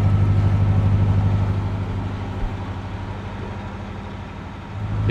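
A narrowboat engine labouring upstream after heavy rain, a steady low diesel drone with a throbbing pulse that dips slightly midway, then swells again near the end.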